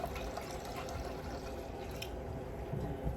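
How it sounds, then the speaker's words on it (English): Apple cider vinegar and water poured into a saucepan, a steady close liquid splash and trickle that runs without a break for a few seconds, with no talking. "I'm going to start by pouring that into my saucepan."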